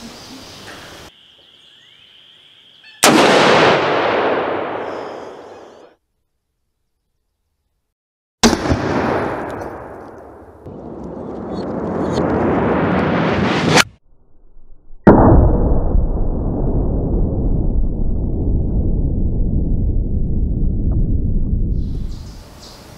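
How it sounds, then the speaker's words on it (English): A .50 caliber rifle shot striking a 20-ounce paintball gun CO2 tank, with sharp loud blasts followed by long rushing hisses of escaping gas, several bursts separated by short silences. "Here's a bonus shot on a 20-ounce CO2 tank from a paintball gun."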